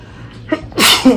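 A person sneezes once, loud and close: a short inhaled build-up followed by a sharp, explosive burst and a brief trailing breath.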